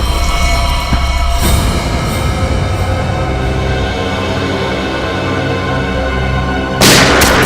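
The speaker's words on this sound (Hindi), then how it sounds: "दया गोली चलाओ उस पर, चलाओ गोली" A single sharp gunshot cracks out in a TV crime drama, loud and abrupt, cutting through a sustained dramatic music bed, then a second burst hits near the end.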